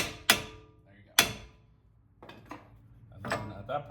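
Hammer strikes on a Ford Fusion front wheel bearing, two sharp metallic clanks about a second apart followed by softer knocks and clatter, close up and with no talking.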